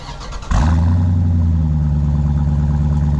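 A 2018 Dodge Durango SRT with a 6.4-liter Hemi V8 and dual exhaust fires up and revs, a sudden loud burst settling into a deep, steady rumble close by.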